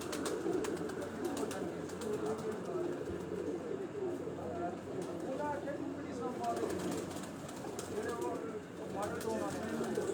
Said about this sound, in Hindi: ये आखिरी इनके बैठने वाले कबूतर हैं।